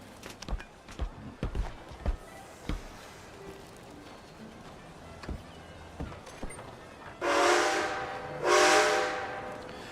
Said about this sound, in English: anytime you are operating a train, you always want to make sure you blow your whistle a few times and ring the bell a few times